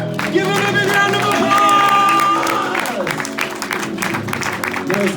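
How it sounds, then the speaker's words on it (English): Audience at a live hypnosis stage show breaks into applause and cheering, a dense crowd roar with a whistle or sustained whoop on top, mixed with shouts and voices throughout. "Give him a big round of"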